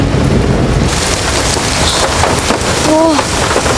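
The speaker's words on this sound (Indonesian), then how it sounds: "Ayu yang kepalang basah mengajak Ningrum untuk kikit ciprikan saja menembus hujan." Steady rain hisses across the whole clip with a constant wash of drops, and a brief faint tonal sound rises near the end.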